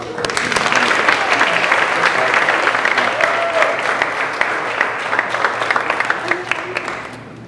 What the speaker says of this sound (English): So a round of applause for Mary Beth.